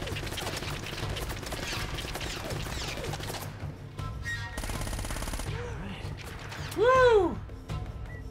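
Heavy automatic fire from a gunner in Uncharted: Drake's Fortune, a dense continuous rattle lasting several seconds with crashing impacts and whooshing effects layered on top.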